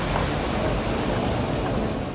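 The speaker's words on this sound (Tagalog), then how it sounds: "ang mga kawayang tapakan hinahampas na ng malakas na agos ng" A strong river current rushes against bamboo footbridge planks in Mindoro, a dense, steady roar of water with no distinct pauses and no voices.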